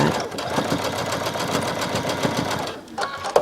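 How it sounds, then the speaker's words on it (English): Sewing machine stitching fabric for a simple dress at a quick pace, a rapid even chatter of the needle running close and steady for a few seconds with a brief pause near the end. "I'm going to speed my machine up just a little bit."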